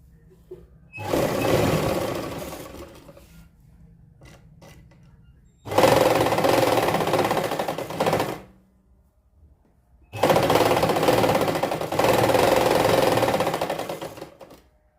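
A sewing machine runs a basting stitch on kurti lining in three distinct bursts of rapid mechanical whirring, each lasting a few seconds, separated by quiet pauses with faint handling sounds.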